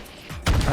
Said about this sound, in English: Engaging mortar gameplay.